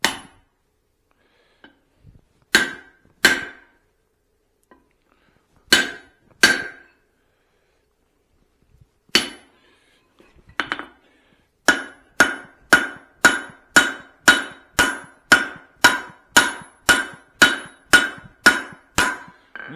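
A hammer strikes a drift set in the eye of a forged Swedish-style cross peen hammer to widen it, sharp ringing metal blows, first scattered with pauses, then a steady fast run of evenly spaced strikes, close and loud.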